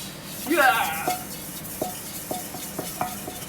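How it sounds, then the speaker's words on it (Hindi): Dishes, pots and pans are scrubbed by hand, with scattered metallic scrapes and clinks in a loose rhythm, close by, and a voice heard briefly near the start. "बर्तन मांजे की स्टाइल देखो"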